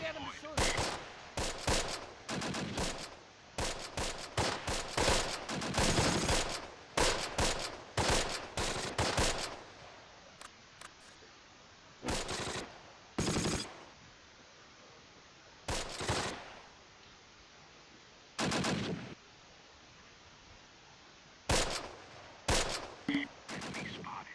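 Machine gun fire in Close Combat: Last Stand Arnhem, loud rattling bursts of automatic fire, dense at first and then sparser, separated by quiet gaps.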